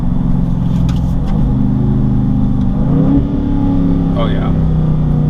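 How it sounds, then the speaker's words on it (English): A BMW M3 engine revs up as the automatic gearbox downshifts through the paddles in eco mode, a steady loud drone rising and falling with speech over it. "This has a really nice downshift too."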